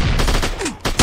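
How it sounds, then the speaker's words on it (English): Assault rifle gunfire in the hunting video game Poached: Hunt The Hunter: loud, dense bursts of shots rattle through a short stretch with a brief lull, then resume close and strong. "Someone has an assault rifle."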